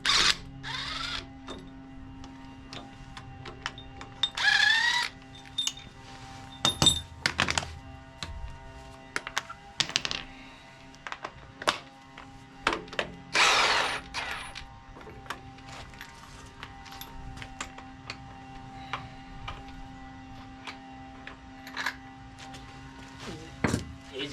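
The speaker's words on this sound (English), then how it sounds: "This is my Snap-on 1/2 inch Monster Impact." A Snap-on 1/2 inch impact wrench removes engine parts, including a harmonic balancer, in a quiet garage: a few short, loud rattling bursts of hammering stand out, spaced apart between clinks and handling noises.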